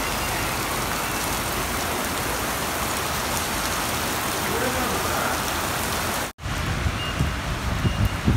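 Heavy rain pours down in the UAE, a dense, steady hiss of drops on surfaces that runs continuously, briefly cutting out near the end before resuming with closer, sharper patter.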